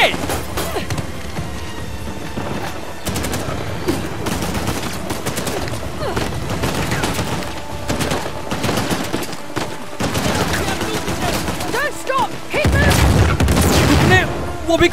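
Sustained gunfire and bursts of automatic fire in the Uncharted: The Lost Legacy action game, loud and continuous with occasional heavy booms, running under a player's excited talk.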